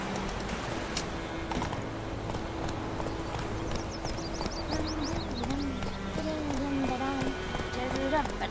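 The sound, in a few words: horse Roach galloping in The Witcher 3 video game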